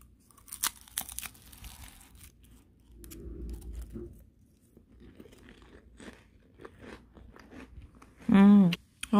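A handmade nougat cracker from Mengxiang 82 crunches as a bite is taken at close range, followed by quieter crinkling and chewing. A person speaks briefly before and after.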